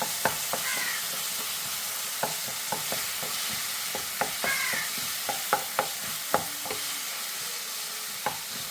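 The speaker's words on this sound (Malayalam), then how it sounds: "ഉപ്പ് ആവശ്യത്തിന് ഇളക്കി കൊടുക്കണം" Chicken curry fries in a pan while a spoon scrapes and stirs it. Clear, uneven clinks and knocks sit over a steady close sizzle, with no voices.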